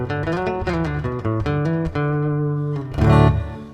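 Fender Acoustasonic Player Telecaster set to a dreadnought acoustic voicing, a series of close plucked notes and chords ending in a louder strum, played alone without talk.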